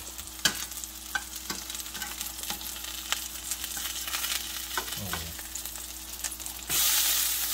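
Homemade pork sausages frying in a pan give a steady close sizzle with scattered crackles and pops, a louder hiss surging near the end as the pan is handled.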